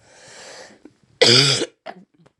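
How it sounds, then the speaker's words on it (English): A breathy exhale is followed by one loud, harsh cough close by, then a couple of small throat sounds. "I'm still coughing."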